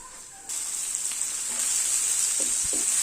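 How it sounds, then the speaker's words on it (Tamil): Chopped tomatoes sautéing in a hot pan for a vendakkai masala fry, a bright constant sizzle that jumps louder as they go in, with a few faint spoon taps near the end. "இதையும் சேர்த்து நல்லா வதக்கிக்கணும்"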